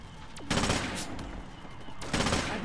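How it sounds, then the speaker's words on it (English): Gunfire in the stealth shooter Splinter Cell Conviction, two short bursts of rapid automatic shots, one early and one near the end, with a quick whooshing effect just before the first burst. "That's gunfire."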